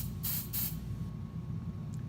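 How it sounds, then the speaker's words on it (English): Two quick hissing bursts from a spray bottle, close and distinct, spritzed near a beam splitter during an optics demonstration, over a low steady room hum. "I'm going to spray some spray."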